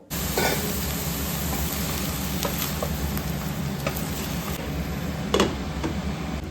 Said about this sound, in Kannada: ಅದನ್ನೆಲ್ಲ ಹಾಕಿ ಚೆನ್ನಾಗಿ ಫ್ರೈ ಮಾಡಬೇಕು ಸಾಫ್ಟ್ ಆಗೋವರೆಗೂ